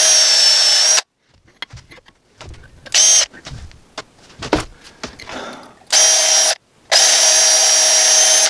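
A power drill bores a hole in the metal blade of an ulu knife, high whirring bursts that start and stop four times, separated by quieter handling clatter and tool knocks.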